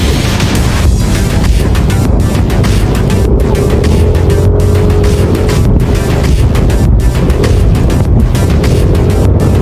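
A tricycle in the Philippines drives along with a loud, steady motor rumble and constant road and wind noise throughout, no voices standing out.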